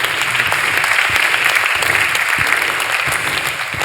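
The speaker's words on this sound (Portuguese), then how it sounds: "João Tomás, uma salva de palmas aqui para o João." Studio audience applause on a Portuguese radio and TV show, with dense sustained clapping from many hands, loud and close throughout and easing slightly at the end.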